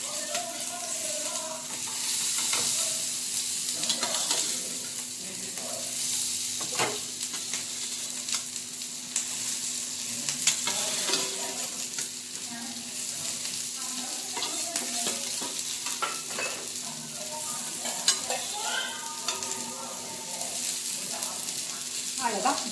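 Tofu pieces frying in oil in a pan while being stirred, a constant sizzle broken by scrapes and clinks of the utensil, with occasional voices murmuring in the background.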